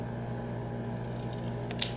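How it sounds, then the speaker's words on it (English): Scissors trim along a decorative edge of quilting fabric, a few quiet crisp snips close by near the end, over a low steady hum with no talking. "we'll take some scissors and we'll just trim this"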